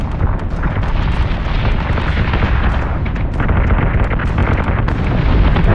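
Sustained ship weapons fire in the space combat game Battlestar Galactica Deadlock, a dense, continuous barrage of heavy booming and crackling bursts that stays loud and unbroken throughout with no voices.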